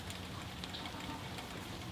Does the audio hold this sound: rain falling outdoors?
yes